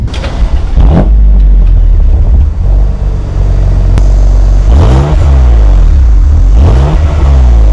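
A 2020 BMW M2 Competition engine idles with a deep rumble, then revs sharply twice, the rising and falling pitch loud and close.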